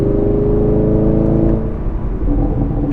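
A 2021 Chevy Camaro engine hums loudly and evenly from inside the car while driving, the steady drone easing and shifting in tone after about a second and a half.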